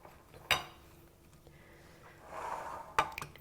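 Mint is stirred into a salad in a bowl, giving a few faint clinks and scrapes of utensils against the dish. Two sharper knocks are separated by a softer rustling tumble of leaves, all quiet and close.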